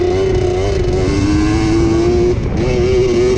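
A 125cc two-stroke Kawasaki KDX dirt bike engine revs loudly and close by, holding a buzzy high-pitched note with a brief dip and recovery, alone without talk.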